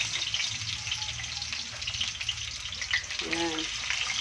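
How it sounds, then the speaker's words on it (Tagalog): Carrots frying in a pan, a soft steady sizzle close by with a brief watery bubbling burst, fairly quiet overall. "ang gagawin muna natin ay piprituhin muna natin yung carrots at saka patatas"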